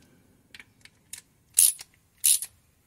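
Water pump bolts on a 1995 Holden Rodeo are tightened with a ratchet, a few light clicking ticks followed by two louder sharp ratcheting bursts, close up in a quiet space.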